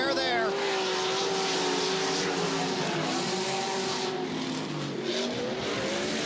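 Pro 4 off-road race trucks roaring around a dirt track, a steady loud engine drone with shifting pitch as trucks pass and accelerate, under a commentator's voice.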